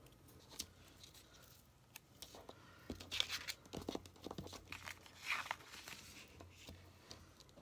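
A rubber eraser scrubs across the paper page of a personal planner in quiet, irregular bursts of rubbing and crinkling, with a couple of sharper brushes, close and soft.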